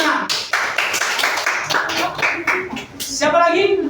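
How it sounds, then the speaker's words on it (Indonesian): Children in a classroom clap their hands in a burst of sharp, uneven claps, praising a pupil who answered about egg-laying animals, with a teacher's voice and chatter mixed in. "Tepuk tangan."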